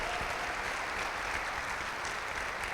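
A church congregation applauds during a Sunday family worship service, dense continuous clapping from many hands filling the room at a steady level throughout.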